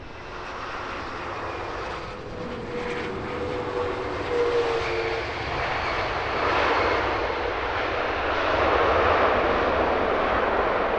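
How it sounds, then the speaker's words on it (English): A Delta Airlines airliner lands at Heathrow with a broad, steady engine roar that swells gradually, distant but loud, with no talking. "Nice floaty arrival from the Delta Airlines"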